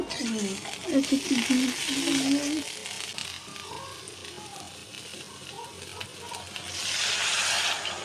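Semolina upma with curry leaves stirred in a pan, soft frying sizzle and faint scraping under a brief voice at the start, with the hiss swelling louder near the end.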